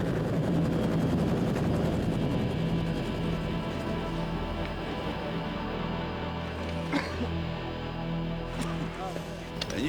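A helicopter hovers close overhead on an outdoor film shoot, a loud steady rotor and engine drone with rhythmic blade throb, while people speak briefly under the noise.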